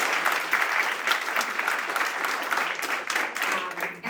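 Steady applause from an audience honoring startup presenters at a future mobility challenge event, a dense wash of many hands clapping continuously with no talk over it.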